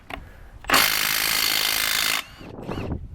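A power tool spins on a bearing cap bolt of a Ford Dana 60 rear axle from a 1967–1977 truck, a loud, steady whirring burst of about a second and a half, framed by brief metallic clicks and a short ratcheting rasp after.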